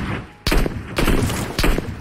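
A minigun fires in the PUBG Mobile video game. Loud, rapid bursts of automatic gunfire come in three close, heavy volleys with short gaps, each one a dense, roaring stream of shots.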